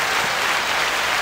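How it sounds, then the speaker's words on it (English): A short burst of steady applause sound effect plays loudly, a dense wash of many hands clapping with no gaps. "That's applause."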